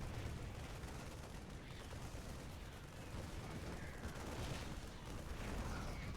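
Units open fire in a StarCraft match near an SCV mineral line, a faint flurry of rapid gunfire bursts and crackling shots continuing throughout at low level.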